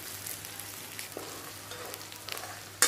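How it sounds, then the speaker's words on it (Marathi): Turmeric, chili powder, black masala and salt frying in oil for chunvadi bhaji, a steady close sizzle with faint occasional stirring taps and a sharp clink at the end, no talking. "आणि मसाला होऊन द्यायचा तेलामध्ये."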